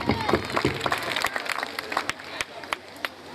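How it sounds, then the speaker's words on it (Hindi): A crowd claps in uneven applause at a Republic Day prize distribution, thinning out toward the end, with voices mixed in. "जोरदार तालियां"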